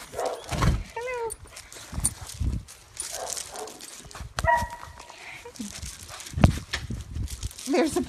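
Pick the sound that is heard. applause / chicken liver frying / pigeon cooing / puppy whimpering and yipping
puppy whimpering and yipping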